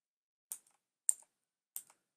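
Three separate computer keyboard key presses click crisply and close in a quiet room, evenly spaced about half a second apart, each with a brief double tap.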